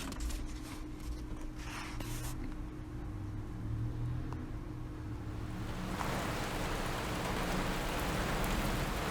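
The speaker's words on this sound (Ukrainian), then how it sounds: "А от і дощ." Steady rain in a Moomin cartoon episode hisses down, building into a heavier, broadband downpour in the second half, with a low rumble underneath.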